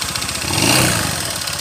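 A CVT-equipped motorcycle engine, suspected of a faulty connecting rod, runs rough with a steady, slightly uneven clattering drone close by, without a break for a second and a half.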